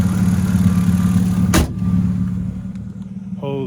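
A BMW E36 M3 engine idles steadily after coming out of a garage, a close, loud, even low rumble with a sharp click partway through and no speech.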